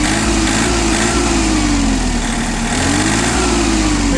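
An Iseki TU-205 Japanese mini tractor engine runs close by with a loud, steady buzzing hum, its revs rising and dipping gently in a smooth wave when the throttle is worked. No one speaks.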